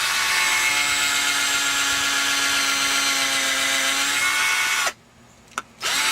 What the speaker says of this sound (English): drill a hole down here.